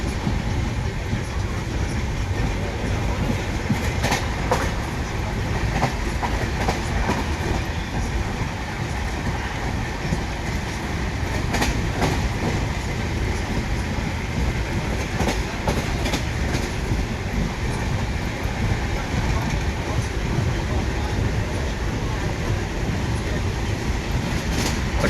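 A train runs along a railway track beside a highway through open farmland, a continuous loud rumble with repeated clickety-clack of wheels over rail joints sustained throughout, close by.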